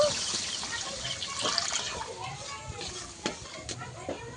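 Water splashes into a pan of frying fish curry cooked with kakrol, a brief close rush of liquid over the hiss of hot oil and spices, followed by a softer bubbling sizzle.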